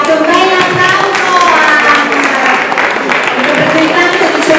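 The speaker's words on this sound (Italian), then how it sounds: "un bel applauso" Award-ceremony audience at the national Panettone and Pandoro fair in Rome applauds loudly and steadily, a dense wash of clapping with voices mixed in throughout.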